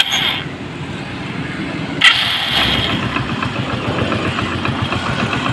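The carburettor engine of a Hero Passion Pro motorcycle idles at very low RPM, a steady close-up mechanical rumble with a brief sharp click partway through and no talking.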